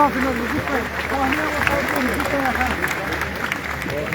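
Guests applaud at a wedding ceremony, a continuous wash of clapping from a crowd under a voice and chatter that carry through the whole stretch.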